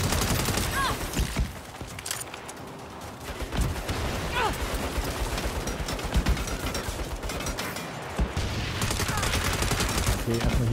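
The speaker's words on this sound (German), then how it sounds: "Wo schießt denn überall?" Gunfire in the Saints Row video game rattles almost without pause in dense, loud bursts of shots and automatic fire, with a voice speaking over the battle now and then.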